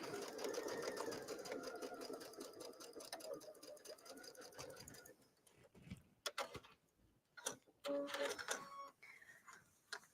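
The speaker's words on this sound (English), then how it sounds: "I like to sew this seam while it's open." A sewing machine runs steadily for about five seconds as it stitches a seam through fabric, then stops, followed by scattered clicks and handling noises with no talking.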